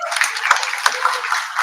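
Applause from a seated audience at the Amar Ujala Samvad Haryana 2024 forum session with Virender Sehwag, a dense steady patter of many hands with a few sharper individual claps, fairly close.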